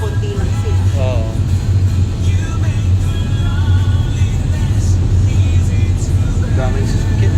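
Steady road traffic in Brunei, near The Mall, a continuous low engine rumble and tire roar with cars passing close by, while people talk over it throughout.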